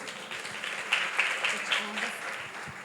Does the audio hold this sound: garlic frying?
no